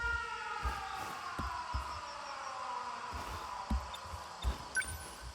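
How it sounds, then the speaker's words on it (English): Air raid sirens wail faintly in the distance with slowly falling tones, overlaid by occasional dull thumps. "Air raid alarms have been sounded."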